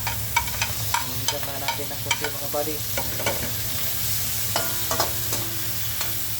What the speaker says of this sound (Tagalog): saka natin ilalaglag ang ham.